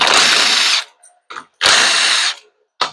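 A ratchet or power tool spinning out bolts from a 4R70W automatic transmission, loud whirring bursts of under a second each, with brief clicks and short spins between them.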